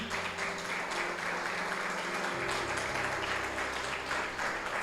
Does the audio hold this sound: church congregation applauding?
yes